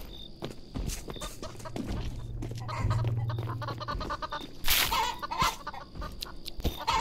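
Chickens cluck and a rooster calls repeatedly at an outdoor spot where a fowl is being chased, with footsteps and shuffling scattered through the noisy scene and a low hum in the background.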